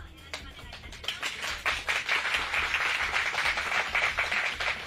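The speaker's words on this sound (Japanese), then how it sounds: "温かい拍手をありがとうございます。" An audience at a live Nissan mechanic challenge broadcast in Okayama claps warmly, a crisp patter that swells to a dense, steady applause heard close with no talk over it.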